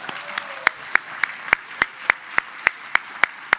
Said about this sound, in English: Can I get a clap for that?